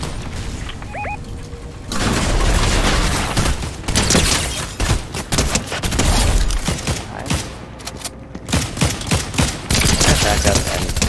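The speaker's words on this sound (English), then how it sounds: "someone's still shooting me" Fortnite gunfire in a Zero Build quads match, with loud close bursts and scattered single shots coming in irregular clusters over several seconds, mixed with thuds and booms.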